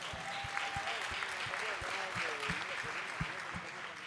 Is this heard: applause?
yes